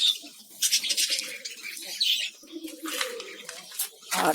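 Pigeons coo and call at a village bird farm, soft repeated coos and chirps with occasional wing flutters, near and fairly loud, with no talk.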